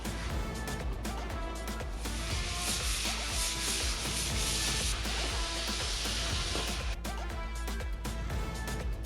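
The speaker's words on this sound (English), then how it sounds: "Once it dries, another light sanding." Steady rhythmic light sanding of a butcher block wooden countertop between finish coats, a close, continuous scratchy hiss with back-and-forth strokes and no talk.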